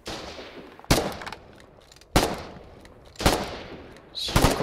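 Four sharp, loud gunshots crack out at roughly one-second intervals, each trailing into a rumbling decay, in a WWI artillery video game with Howitzer guns and a battlefield ambience between shots.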